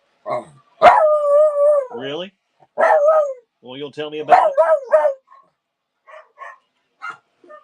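A dog barks and howls in drawn-out, voice-like yowls, close by, trading with a person speaking in between.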